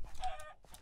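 Chickens in a Minecraft party minigame give short clucks, fairly quiet, in a couple of quick bursts.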